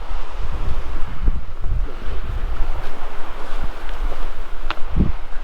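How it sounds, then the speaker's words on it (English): Gusty wind buffets the microphone while rough waves wash on a lake at a rainy campsite, loud, close and uneven, with irregular low thumps and no talk. "It is just insane out there, the waves right now."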